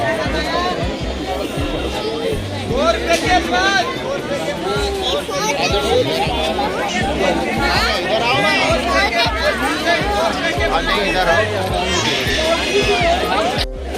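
Dense crowd chatter fills a busy clothing market in Nainital, steady overlapping voices and bustle throughout, with a nearby voice talking over it.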